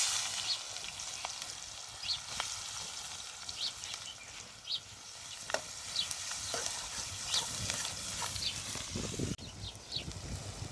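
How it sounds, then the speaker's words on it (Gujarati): Chopped onion sizzles and crackles in hot oil, a constant frying hiss with scattered pops and occasional stirring, close up and without voices. "ડુંગળી વઘારમાં નાખી દીધી છે"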